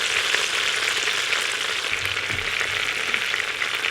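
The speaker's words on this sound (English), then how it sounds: "So our garlic's starting to get nice and toasted." Garlic fries in a pan with a constant close hiss and sizzle, and a faint scrape of stirring partway through; no voices.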